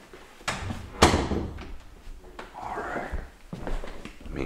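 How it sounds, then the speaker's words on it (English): An interior door in an old house swings shut with a sharp close knock, followed by shuffling movement and a person talking in a quiet room. "I'm going to close the door."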